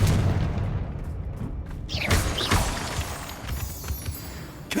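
Confringo blasting spell from Hogwarts Legacy bursting with a deep boom and crackling, shattering debris, followed by a second fiery burst, loud and close against a constant low game rumble.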